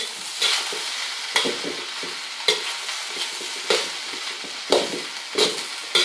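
Fried rice with soy sauce being stirred in a frying pan: a constant hot sizzle is broken every second or so by a scraping push of the spatula, close and even in rhythm, with no voices.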